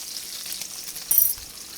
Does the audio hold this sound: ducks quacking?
no